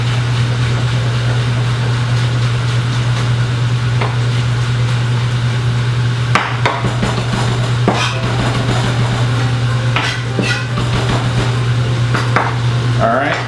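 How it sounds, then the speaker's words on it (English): Shrimp tossed in a hot pan with tasso ham give off a constant loud sizzle, broken by several sharp clatters as the pan is shaken and the shrimp are stirred. "give our shrimp a little toss"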